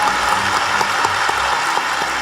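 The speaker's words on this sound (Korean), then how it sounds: "큰 박수 보내드립니다" Steady audience applause fills an indoor gymnasium at a church anniversary celebration, dense clapping from a large crowd at an even, sustained level with no talk over it.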